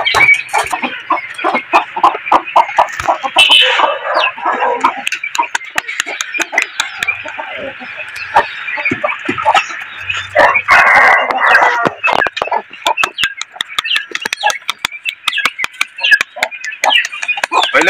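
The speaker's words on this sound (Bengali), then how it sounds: "আপনারা এই যে মোরগটা দেখতে পাচ্ছেন" A heavy rooster of about 3.5 kg crows loudly and clucks repeatedly at close range, with other fowl calling around it in a busy, noisy yard.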